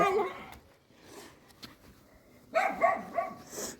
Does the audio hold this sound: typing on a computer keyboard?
no